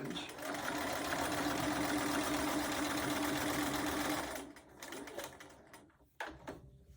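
A sewing machine runs continuously while stitching a mug rug, loud and steady at close range for several seconds before stopping, followed by softer handling noises. A voice can be heard as well.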